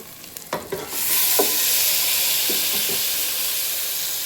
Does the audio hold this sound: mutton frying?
yes